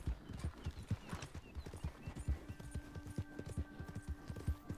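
Horse hooves clip-clop in a steady trotting rhythm while riding in Red Dead Redemption 2, close and clear, with a brief whinny early on.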